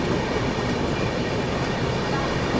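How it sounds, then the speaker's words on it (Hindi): The Gatiman Express high-speed train on the Delhi–Jhansi line overtaking the Taj Express, a dense, loud rush of rolling wheels and rattling carriages heard up close from on board. "यहाँ पर हम लोग ओवरटेक कर रहे हैं ताज एक्सप्रेस को"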